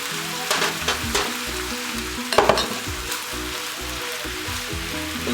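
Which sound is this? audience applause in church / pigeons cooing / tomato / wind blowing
tomato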